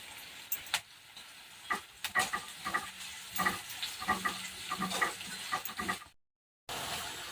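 Onion frying in oil in a pan for a Khandeshi monsoon wild-vegetable dish, a steady close sizzle broken by irregular scraping stir strokes, with a brief dropout near the end and no talking.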